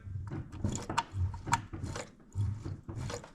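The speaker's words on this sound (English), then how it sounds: "Well, we can hear fluid moving" Brake fluid shifting and clicking inside the brake system of a 1983 Ford Crown Victoria as the pedal is pumped repeatedly, giving a quiet, close run of irregular mechanical ticks and creaks with no talk over it.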